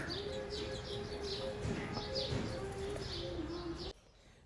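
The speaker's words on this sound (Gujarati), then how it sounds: "જો અહીંયા હે એક ચકલી" Sparrows chirp repeatedly in quick, bright bursts over a steady low hum, fairly close, before the sound cuts off abruptly.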